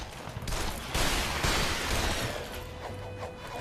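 Rapid, dense bursts of gunfire blasting robots in the video game Shoot Many Robots, loud and continuous with crashing, shattering impacts layered in, no talk.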